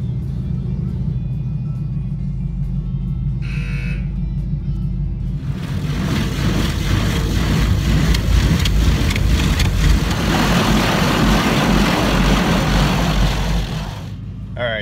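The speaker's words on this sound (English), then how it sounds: "This is the loudest dang car wash ever." An automatic car wash running at a military base, a steady loud rumble and hiss of machinery and water spray that swells after a few seconds and fills the cabin, with a brief tone earlier.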